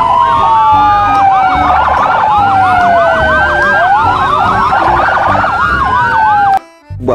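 Loud, close electronic siren warbling and whooping in rapid overlapping sweeps, then cutting off abruptly near the end, like a toy police car.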